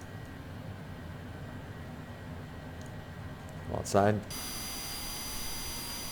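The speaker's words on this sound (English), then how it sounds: "Left engine spooling up first." The left engine of an aircraft in a flight simulator video game spools up, rising to a steady, high whine partway through over a low background rumble, with a person speaking briefly.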